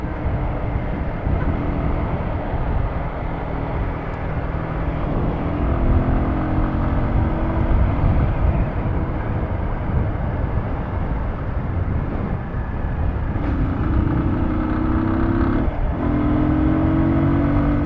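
A Keeway Cafe Racer 152 motorcycle, a small-displacement bike just repaired, idles with a steady low engine drone, fairly close and continuous with slight rises in pitch, no talk over it.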